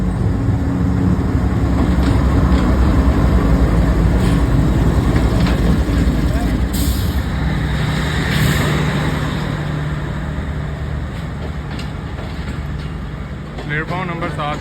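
Pakistan Express diesel train pulling into platform 7 on a smoggy Pakistan Railways station: a loud, steady engine rumble that eases slightly toward the end, with a voice talking over it.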